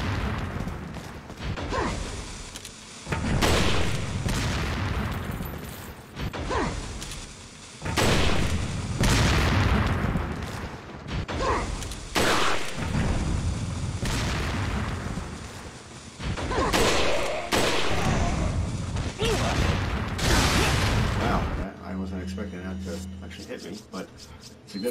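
Gunfire in the Resident Evil 4 video game as enemies are shot, loud repeated bursts and booms across a dense combat mix that ends in a quieter mechanical stretch.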